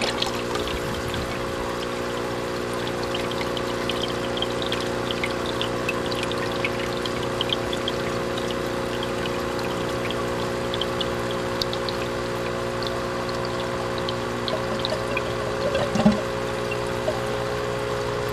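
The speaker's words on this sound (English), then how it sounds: "And that's the sound of the siphon breaking." Water pours and trickles steadily as the siphon in an aquaponics grow bed breaks, with a pump running under constant drips and splashes across the whole stretch and no voices.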